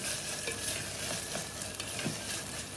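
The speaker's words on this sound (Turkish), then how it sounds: "Tekrar kavuruyorum." Pepper paste sautéing in a pot for pressure-cooker bean stew with sucuk, a steady soft sizzle with faint scraping stir strokes, close and moderately quiet throughout.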